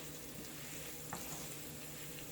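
Sliced almonds fry in ghee while being mixed, a quiet, steady sizzle with a single soft scrape partway through and no talking.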